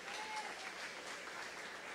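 Strong, steady applause from a church congregation praising the Lord during an evening service, a dense wash of clapping that holds at an even level throughout with no pauses.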